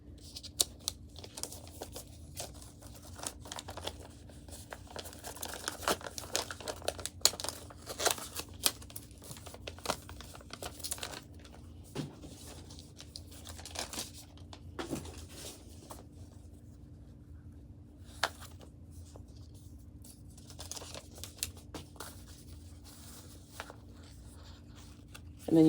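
Paper is handled and crinkled near the microphone, with soft rustles and scratchy crackles going on and off over about twenty-five seconds against a low steady hum.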